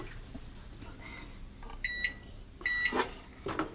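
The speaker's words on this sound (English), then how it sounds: "Now we're going to put them in the microwave for 45 seconds." A microwave oven runs at power level 5 with edible slime inside, its steady hum broken by two loud electronic beeps, close by with no talking.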